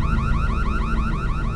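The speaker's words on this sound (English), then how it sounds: "if the alarm goes off, and I do suggest you have an alarm system" A home alarm system goes off with a loud electronic siren that warbles in rapid, evenly repeating rising sweeps, continuous and alone with no voices.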